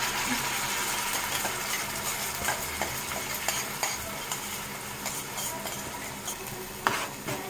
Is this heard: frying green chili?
yes